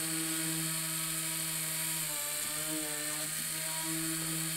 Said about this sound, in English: the ball burr sinks in pretty quick